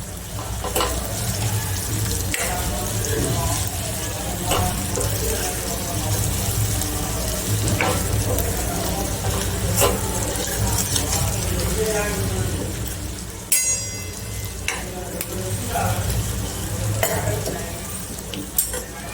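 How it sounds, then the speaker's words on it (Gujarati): Gathiya crumbs being stirred into a simmering parval curry in a pan, a steady frying hiss with repeated scraping and clinking strokes of the spoon throughout, close and fairly loud. "ગાંઠિયાનો ભૂકો જે કર્યો છે એ નાખીશું. હવે બધું મિક્સ કરી દઈશું."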